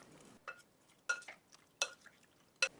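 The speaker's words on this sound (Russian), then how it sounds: "Перемешиваю." A spoon stirs marinated champignon mushrooms with a few sprigs of dill, making four or five soft, separate clinks and wet scrapes against the bowl in a quiet room.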